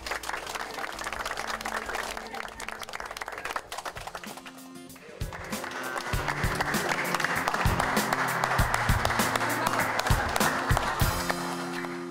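Applause from a congregation fills a church during a service marking the handover of a new church building. The clapping is sustained and swells into a louder, fuller round, with faint tones underneath.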